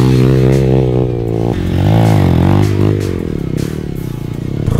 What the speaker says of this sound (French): Là on est sur une 125 CBR Honda.